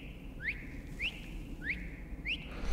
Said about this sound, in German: Ah, dann pfeift er.